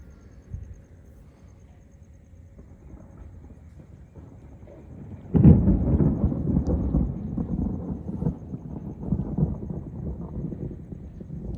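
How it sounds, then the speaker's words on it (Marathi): A loud rumble of thunder breaks out midway and rolls on, following quieter wind and rain noise during a storm at the shore; no voices. "बेकार विजा चमकतात"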